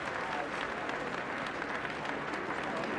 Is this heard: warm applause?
yes